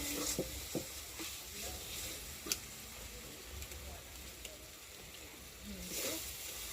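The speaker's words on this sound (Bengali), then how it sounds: "একটু ভাজা ভাজা হবে মশলাটা" Ginger-garlic spice paste frying for aloo dum, quiet sizzling with intermittent spatula stirs and scrapes against the pan, close but soft, no clear speech.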